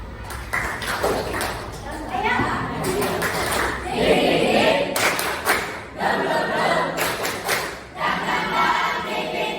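A school class performs a rhythmic clapping ice-breaker chant, with bursts of patterned group claps separated by short pauses and voices chanting along.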